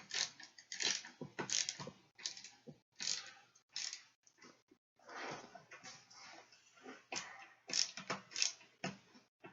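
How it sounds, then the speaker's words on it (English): A worn ratcheting screwdriver clicks in bursts of rapid ratchet ticks while assembling a black Yesker gaming chair, close and fairly quiet, with short pauses between runs of turning. "This ratcheting screwdriver, unfortunately, has seen better days."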